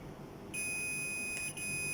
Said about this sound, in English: We normally check in continuity mode here. Just we check and we check buzzer.